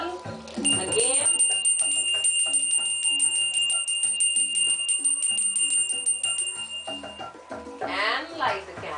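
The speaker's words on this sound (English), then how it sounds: "I will ring the bell again." A small bell rings in a candle magick workshop, bright sustained tones with rapid repeated strikes ringing close and clear, while a voice speaks softly alongside it.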